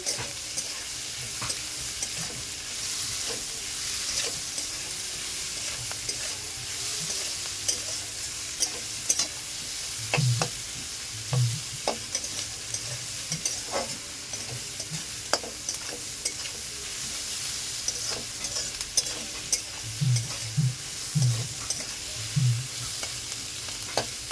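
Chowmein ingredients stir-fried in a pan with a little salt hiss in a steady sizzle, broken by repeated scraping and clanking strokes of a spatula, clustered in quick bursts later on.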